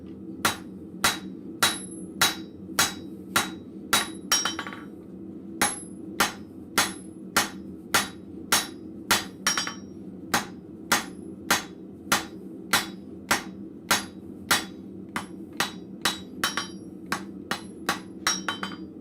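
Hammer blows ring out on a steel centerpiece at a blacksmith forge, a long steady run of sharp metallic strikes in a brisk rhythm with a brief pause partway through, close and loud.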